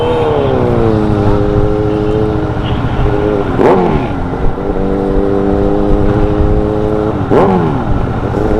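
A motorcycle engine drones steadily on a Distinguished Gentleman's Ride near Bury St Edmunds. Two sharp throttle revs rise and fall over the close, continuous engine sound.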